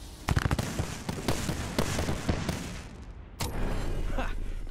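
Dense video-game gunfire in a Mirage Arena match, a rapid crackling volley of sharp shots with a brief gap and then a renewed burst, loud and close.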